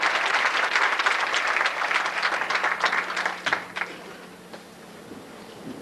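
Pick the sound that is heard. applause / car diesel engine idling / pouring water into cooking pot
applause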